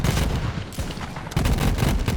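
Flakker shotgun in Borderlands 3 firing, with rapid crackling bursts of gunfire and explosions tumbling over one another, loud and close, pausing briefly before another dense volley.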